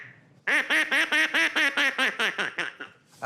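An Acme duck call whistle quacks in a fast, evenly spaced run of about a dozen loud, nasal blasts, close up, then trails off into a few weaker squawks.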